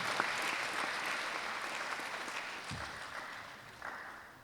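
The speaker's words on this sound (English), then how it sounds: "Please let's clap for West Africa International School." Applause for West Africa International School at its graduation ceremony, a faint, distant crowd clapping steadily, slowly tapering off as it goes.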